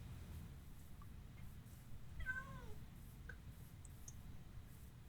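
A cat in the Minecraft video game gives a single short meow midway, faint against a steady low background hum.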